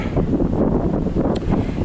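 Wind buffets the microphone outdoors during a five-mile walk, a loud, continuous low rumble with gusty fluctuations filling the whole stretch, no talking over it.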